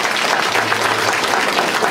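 Audience applause fills a shanty music event in Włoszczowa, a dense, steady wash of clapping that carries on loudly for the whole stretch without letting up.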